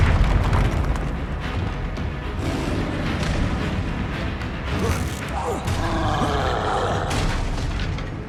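A fiery Incendio spell blast from the Hogwarts Legacy video game roars as a loud, sustained burst of combat noise, with booming rumble and sweeping whooshes over about eight seconds, voices mixed in.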